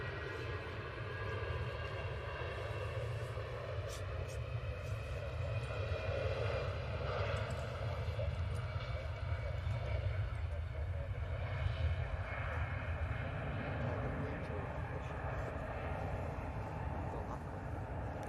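A Jet2 Boeing 757 airliner starting its takeoff roll, heard from a distance as a low, steady engine rumble that holds evenly throughout, with faint voices nearby.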